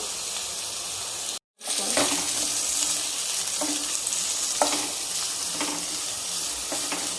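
A big chopped onion and three chillies sizzle and fry in a pan for a gongura egg liver curry, a steady close hiss after a brief silent gap, with occasional stirring clinks and scrapes.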